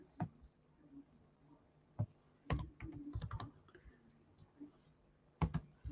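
Sparse keyboard clicks and a few quick typing bursts, soft and close, separated by quiet gaps.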